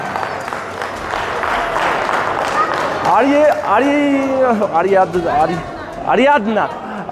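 Guests at a 50th birthday party applaud in a dense, steady wash of clapping and crowd noise, then a loud voice speaks over the fading claps.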